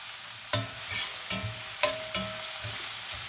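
White onions frying in a pan over high heat, a steady sizzle broken by a few sharp stirring clatters spaced about a second apart.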